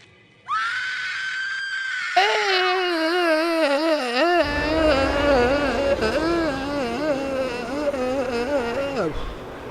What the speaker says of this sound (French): Elle passe sa vie à gueuler dans ce film.